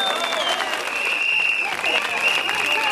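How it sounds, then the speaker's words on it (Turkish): An audience claps at a political speech, with dense, sustained applause filling a hall; the speaker's voice stays faintly audible through it. "Alkışlanacak kısmı bu değil ki."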